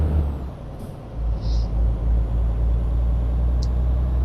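A heavy truck climbing a hill in the Euro Truck Simulator 2 video game on a rainy night, a loud steady low engine drone with brief hissing bursts of air brake above it.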